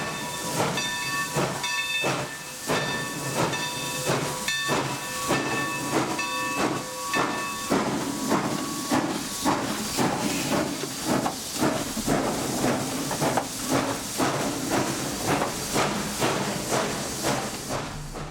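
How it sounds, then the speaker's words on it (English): Texas & Pacific steam locomotive number 316 pulls out of Mushaw on the Texas State Railroad. A shrill steam whistle sounds over loud hissing steam, and rhythmic exhaust chuffs quicken as she departs, with no voices. "T&P number 316 departs Mushaw to continue her journey east to Rusk"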